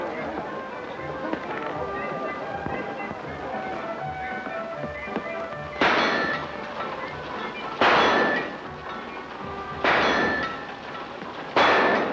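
A small target gun fires at shooting gallery targets: four sharp, ringing shots spaced about two seconds apart over a steady busy background.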